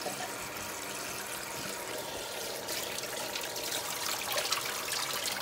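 Cold tap water runs over potatoes in a colander, giving a soft, steady trickling splash that grows a little louder toward the end, with no talking.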